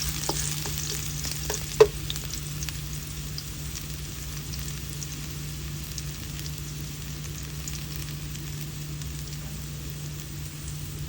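Garlic sautéing in a pan for a coconut shoot dish, a soft continuous sizzle with a low steady hum and a few sharp clinks early on, fairly quiet and with no talking.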